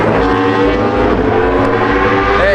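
Loud, roaring engine noise fills the clip continuously, a dense mechanical drone of racing motorcycles passing close by the grandstand at the Bol d'Argent 2023 race.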